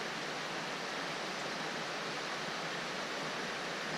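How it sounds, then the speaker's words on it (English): Cold spring river rapids in Algonquin rush in a steady, dense roar of whitewater, loud, unbroken and close, with no voices. "the sound of the rapids."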